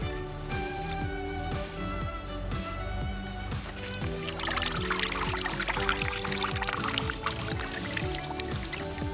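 Water is poured from above onto garden soil before planting squash and zucchini, a steady pouring splash and drips that grow busier halfway through, heard over a rhythmic musical backing with no talk.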